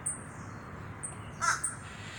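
Crow caws from a bird swooping in to attack, several sharp calls spread across a few seconds, the loudest burst near the middle, with faint background noise and no talking.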